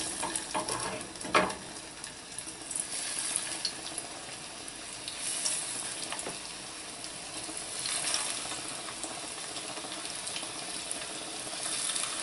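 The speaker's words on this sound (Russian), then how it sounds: "Сковорода разогрета, теперь будем укладывать котлетки в сковороду." Constant broad sizzle of food frying in a hot pan, with a sharp clatter early on and occasional soft scrapes, no talking.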